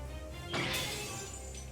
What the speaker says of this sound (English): it shatters instantly to face of Merodach